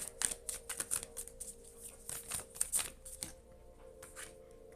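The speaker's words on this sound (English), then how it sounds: "And give it another shuffle." Tarot cards shuffled by hand in a quiet room, a quick run of crisp riffling flicks and soft slaps in an uneven rhythm, close and alone with no talking.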